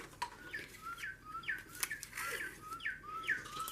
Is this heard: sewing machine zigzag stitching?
no